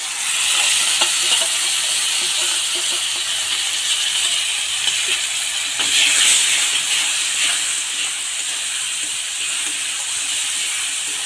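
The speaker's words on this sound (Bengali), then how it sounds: "মশলা কষানো হয়ে গিয়েছে, মশলার থেকে তেল ছেড়ে দিয়েছে" A spice paste sautés in hot oil for a katla fish curry with eggplant and ridge gourd, giving a loud, continuous hissing sizzle that holds steady throughout, with faint stirring scrapes and no talk.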